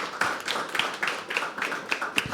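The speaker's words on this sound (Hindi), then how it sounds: "एक बार जोरदार ताली हो जाए।" A small audience at a live poetry open mic in a venue claps, with a handful of distinct, fairly close hand claps and a few voices in between.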